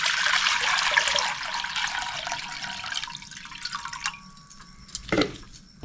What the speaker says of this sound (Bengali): আমি এবার কড়াইতে জল দিয়ে দিচ্ছি।